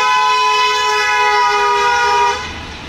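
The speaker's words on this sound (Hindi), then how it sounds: "सो एक बार आपको हॉर्न्स की आवाज़ सुनाता हूँ फ्लाई बाय देते हुए।" Hella twin-tone car horns blare loudly and steadily for over two seconds during a drive-by, then cut off, leaving a quieter hum of background noise.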